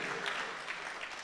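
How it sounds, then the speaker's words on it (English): Audience at a wrestling promotion's yearly award show breaks into a dense, continuous burst of applause for the nominees, loud and close. "Round of applause for our nominees."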